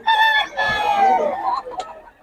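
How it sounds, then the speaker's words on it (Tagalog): A rooster crows once, a long, loud drawn-out call that fades at the end, with faint background noise and a brief murmur behind it. "Yan na pala manok si Boss Perry."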